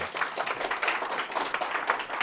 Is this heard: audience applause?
yes